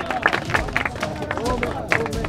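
A studio audience claps and cheers on the final episode of the Afghan Wireless Hadaf reality game show, a short burst of applause mixed with crowd babble and a presenter's voice.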